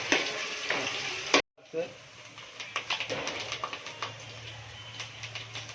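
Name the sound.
stirring ginger into frying misal mixture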